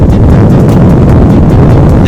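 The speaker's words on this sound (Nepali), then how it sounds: "एकदम विन्डी रहेको छ," Strong wind buffets the microphone along the Asian Highway AH02 road toward Siliguri near the Nepal-India border, a loud continuous low roar with gusty rumble and no voices.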